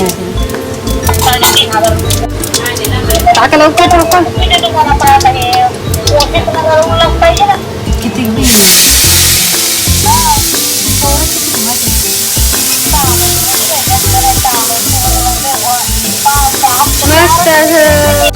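Cumin seeds and spices such as garam masala and black masala fry in hot oil. A loud, crackling sizzle bursts up partway through and keeps hissing, with someone talking over it throughout.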